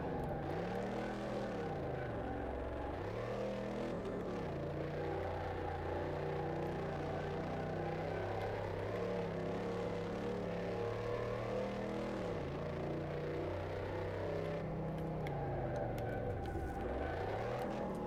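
A car engine in Car Mechanic 2018 labours in first gear with the handbrake on, a steady loud droning rumble whose pitch sags and recovers several times as it nearly stalls, with no voices.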